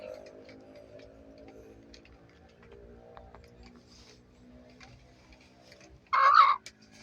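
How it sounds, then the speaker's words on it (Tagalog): A short burst of a chicken clucking near the end, loud against a quiet background of faint rustling and low hum. "May kasamang manok."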